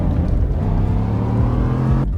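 Cadillac Escalade engine in a Roblox video game, a steady low idle hum with a slight rev, quiet and continuous, cutting off abruptly near the end.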